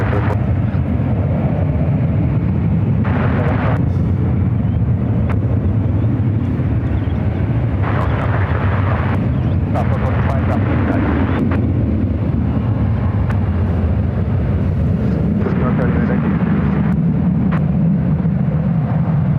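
A Cathay Pacific airliner at San Francisco airport produces a loud, sustained engine roar with low rumble and wind buffeting, swelling and easing over time, with no talk.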